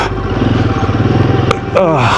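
A motorcycle engine rumbles steadily while riding a snowy off-road mountain pass, close and loud throughout, with a brief rise in revs near the end and no talking.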